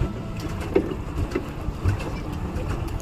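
A boat ride on Manasbal Lake in Kashmir: a low rumbling motor and water wash close by, with gusts of wind buffeting the microphone and a few soft knocks.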